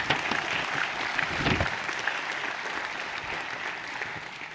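Applause rises from the audience at a graduation convocation, a dense, even patter of many hands clapping that carries steadily, slightly peaking early on, without speech.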